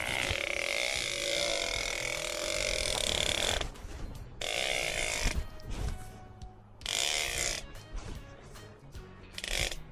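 A ratcheting rope tensioner is cranked to strain electric horse fence rope, giving bursts of close, loud clicking ratchet strokes separated by short pauses.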